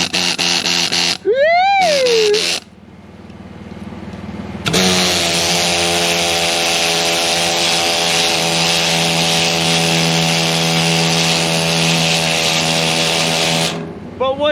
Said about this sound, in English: I went out and got me a new needler.